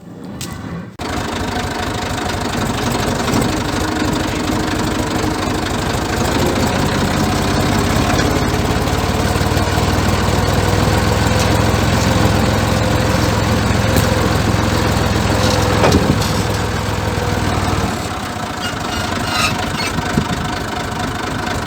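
A tractor engine starts up in a vineyard and runs with a steady, close, chugging drone, holding a constant pitch before easing off near the end.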